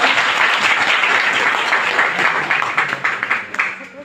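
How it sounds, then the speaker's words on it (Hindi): An audience at a Hindi motivational talk claps for themselves: dense, steady applause close by that thins into scattered claps near the end. "एक बार ताली अपने लिए बजाइए सब।"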